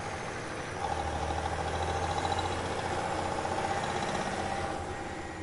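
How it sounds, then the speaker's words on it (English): A truck engine rumbles behind a car in a steady, droning idle that swells slightly in the middle, continuous and fairly close, with no voices. "I heard the unmistakable sound of an engine revving up behind me."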